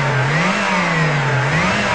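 A Volkswagen Corrado G60 engine revs with the throttle held fully open, a loud, steady drone that swells and dips slightly in pitch, close and alone.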